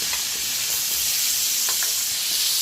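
Onion hitting a hot pan for pork ribs caldereta, a continuous close sizzle with faint crackles, no voices.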